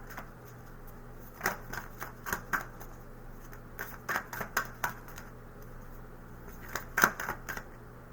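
Oracle cards from a Moonology deck are handled and one is drawn, giving faint papery flicks, taps and shuffling clicks in short uneven clusters in a quiet room, with no talking.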